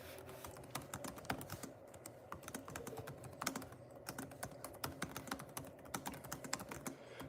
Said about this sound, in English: Hold on, I gotta type something real quick here.